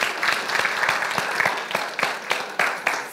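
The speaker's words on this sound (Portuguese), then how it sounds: "Podemos aplaudir, né?" Applause from a church congregation, a dense crowd of hands clapping steadily and close for a few seconds, with a few sharper individual claps standing out.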